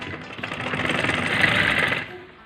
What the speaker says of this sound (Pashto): نو په هغې به اوس دغسې موږ د ماشین ګیندو وهو